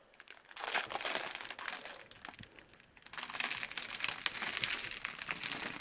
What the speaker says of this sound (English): Let's do the peel.